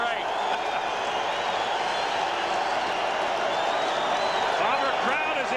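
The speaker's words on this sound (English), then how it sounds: "Bomber crowd is into it." Winnipeg Blue Bombers fans in the home crowd cheer during a 1995 CFL game against the Hamilton Tiger-Cats, a loud, sustained roar that holds steady throughout.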